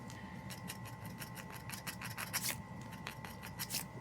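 A craft knife scrapes correction tape off a planner page, making a series of quick, close, rhythmic scratching strokes repeated in rapid succession.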